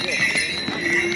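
Horses and mules on the Kedarnath pilgrimage trail make rhythmic hoof clip-clops close by, while people talk over them.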